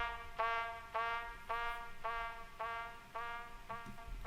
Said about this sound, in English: So these are just the Logic horn sounds basically, and they have a delay on them.